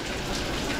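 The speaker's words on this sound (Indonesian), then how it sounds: "Tapi ini hujan kayak gini nih" Rain falling outside near a factory, a steady dense hiss of drops on surfaces, close and continuous without any talk.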